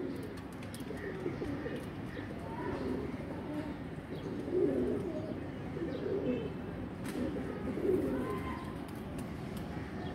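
Several pigeons in a loft cooing near the microphone, with soft, low, repeated throaty coos that rise and fall every couple of seconds over a steady background hum, with little or no talking.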